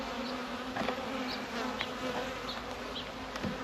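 Honey bees hum in a dense, continuous drone at an open hive during the first check of the season in late February, steady and close with no voices.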